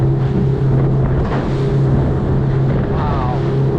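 A new Fischer 1850 boat powered by a Yamaha F115 outboard running across open water, its loud, steady motor drone mixed with heavy wind buffeting on the microphone and splashing from the hull.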